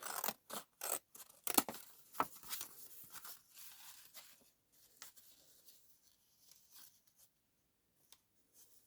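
Scissors snip through paper for a junk journal pocket, a run of sharp close cuts early on that thins into sparse, quieter snips and rustles, with no talking.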